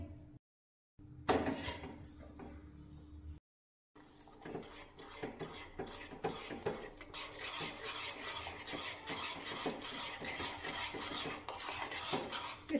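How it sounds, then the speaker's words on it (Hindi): Coconut jelly mixture stirred continuously in a cooking pan on the stove, giving a steady scraping, rasping rub of a utensil against the pan with small clinks, close and alone with no talk. "इसको लगातार चलाते हुए पकाइए।"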